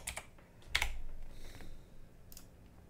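A computer keyboard is used to enter component values into LTSPICE: a few scattered, soft, close key taps with pauses between them over a quiet background.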